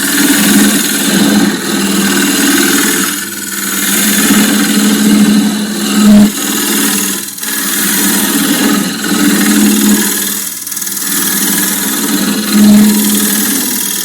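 Steady droning whir of a wood lathe turning a claret ash bowl with a scraper cutting, a low hum running throughout with brief dips and light rhythmic whipping as the grain picks up.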